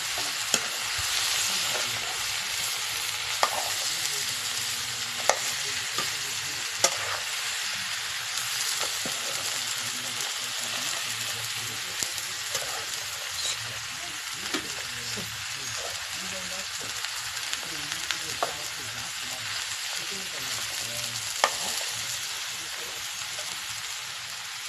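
Mixed winter vegetables for the Bhogi festival dish khengat sizzle loudly in a pan. Steady frying hiss runs throughout, with the scrape of stirring and occasional sharp clinks from the utensil.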